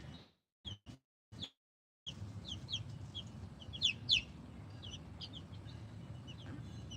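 Bantam chicks on their first day outdoors cheep in short high peeps, a few isolated calls at first then a scattered stream of chirps over a soft low rumble.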